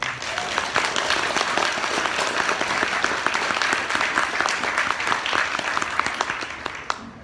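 Sustained applause from a festival audience welcoming speaker Maria Maclennan, dense steady clapping filling the room for several seconds before tapering off.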